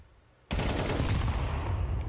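Rapid automatic gunfire from a Counter-Strike match breaks out suddenly after a quiet moment and then keeps up as a loud, dense burst of shots that runs to the end.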